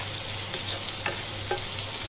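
Onions fry in a pan with salt, a constant close sizzle broken by a few soft stirring scrapes, with no talking.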